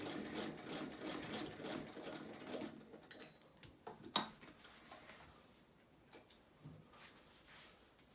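A vintage Husqvarna sewing machine stitching through leather runs in a quick rhythmic clatter that slows, then gives way to a few scattered clicks and knocks, close and moderately quiet.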